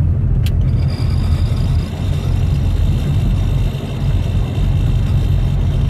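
A 27-year-old classic Mini runs poorly and struggles in third gear, giving a steady, continuous low engine rumble with no one speaking over it.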